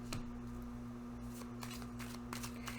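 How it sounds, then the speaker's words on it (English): Tarot cards being shuffled by hand to pull outcome cards, a steady close riffle and slap of card stock over a constant electrical hum, with no talking. "So let's pull some outcome cards."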